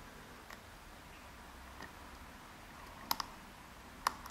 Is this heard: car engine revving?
no